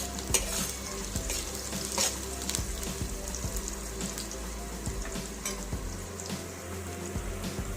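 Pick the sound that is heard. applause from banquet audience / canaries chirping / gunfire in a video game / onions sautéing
onions sautéing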